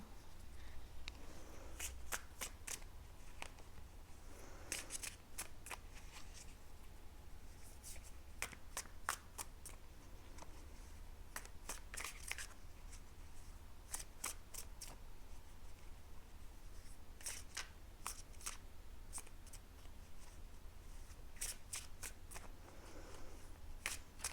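Tarot cards are shuffled by hand at close range in a run of crisp, fluttering riffles and taps, arriving in irregular bursts with quiet pauses between them.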